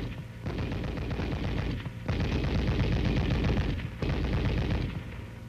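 An M73 7.62mm coaxial tank machine gun fires three long, loud continuous bursts separated by brief pauses, dense and booming with no talk.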